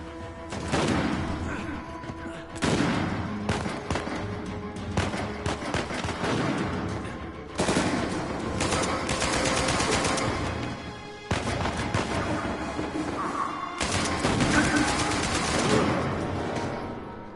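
Heavy gunfire from an online match of the video game Uncharted 4: dense, loud volleys of shots and booms nearly throughout, broken by a few brief pauses.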